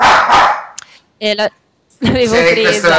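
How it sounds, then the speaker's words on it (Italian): A pet dog barks in two short, sharp bursts during a pause in a woman's Italian speech, with her voice heard before and after. "Questo è il mio cane."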